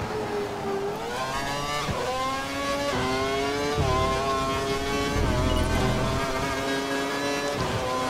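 Race car engine in the F1 2012 video game during qualifying at the Hockenheimring: a loud, continuous high-pitched whine rising and dropping through repeated gear shifts, with no talking over it.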